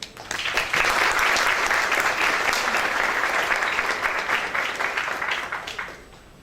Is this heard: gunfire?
no